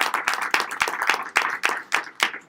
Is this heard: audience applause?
yes